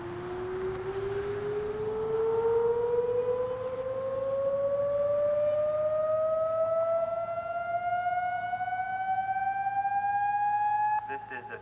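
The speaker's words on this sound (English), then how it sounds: "The city tested the TorranceNOW sirens, a component of its community warning system" Torrance civil warning siren under test, a single long rising wail that climbs steadily in pitch and stays loud and close for several seconds before cutting off, with no talk over it.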